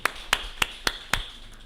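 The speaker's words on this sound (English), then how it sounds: "Do we give a round of applause as well?" Five sharp, evenly spaced claps ring out at a slow, steady pace during the opening session of a diaspora homecoming convention, acknowledging a sign language interpreter, each one crisp against a quiet room.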